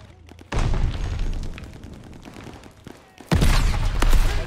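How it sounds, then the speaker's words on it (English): A thrown grenade's heavy boom and gunfire in the shooter Call of Duty Vanguard: a sudden loud blast, a rumbling fade with scattered shots, then a second sharp burst of explosive and gun noise. "Tossing grenade."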